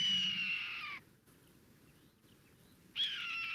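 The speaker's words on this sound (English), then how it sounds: "So that is the sound of a red-tailed hawk" Two harsh, descending screams of a red-tailed hawk played from a recording, one at the start and another near the end, separated by a quiet gap with low background noise.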